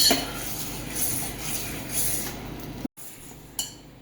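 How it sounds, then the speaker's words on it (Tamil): A spoon stirs custard powder into sugar syrup in a pan, giving close metallic scrapes and clinks against the pan with a few sharper knocks near the end, alone without talk. "நம்ம எடுத்து வச்சுருந்த கஸ்டர்ட் பவுடரை மிக்ஸ் பண்ணிக்கலாம்"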